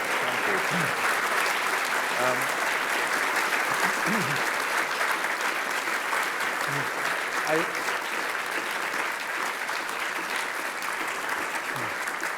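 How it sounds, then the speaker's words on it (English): Steady, dense applause from a large audience after an art lecture, sustained at an even level throughout, with faint voices occasionally audible beneath the clapping. "Thank you all for that generous applause."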